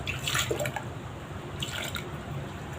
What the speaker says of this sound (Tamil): பாசிப்பருப்பை போட்டுட்டு தண்ணி ஊற்றிக்கலாம்